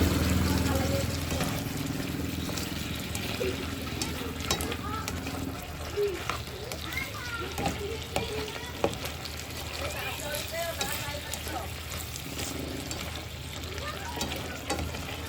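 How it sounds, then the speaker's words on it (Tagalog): Broccoli sizzles steadily in a frying pan and is stirred with scraping clinks and rattles throughout, with a voice speaking faintly now and then. "Ganyan lang ako kasimple pag nagluto ng broccoli."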